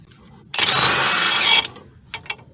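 A wrench working a 19mm nut on a Honda Accord's suspension gives one loud, close burst of ratcheting mechanical clatter lasting about a second, then a couple of faint clicks.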